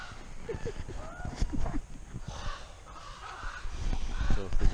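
Crows caw repeatedly beside a salmon river in Montana where bears feed on fish, the harsh calls coming from several birds at varying distances over steady outdoor background noise.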